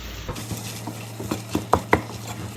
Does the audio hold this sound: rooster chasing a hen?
no